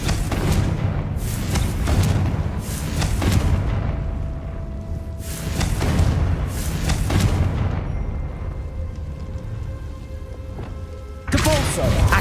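Several booming blasts from the Confringo fire spell in the Hogwarts Legacy video game, deep thuds recurring in bursts under game sounds, with a sharper hit near the end.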